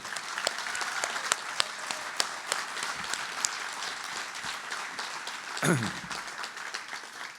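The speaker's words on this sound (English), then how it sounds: "I think we need to clap it up for Super Bowl week" An audience at a city business breakfast claps steadily, moderately loud, with a few sharper claps standing out and a brief voice or whoop near the end.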